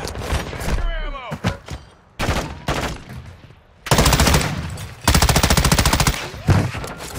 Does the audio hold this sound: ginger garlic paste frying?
no